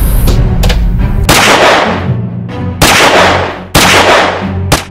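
Gunshots in a short drama film, several loud sharp blasts with ringing decay, spaced irregularly and heard alone without voices.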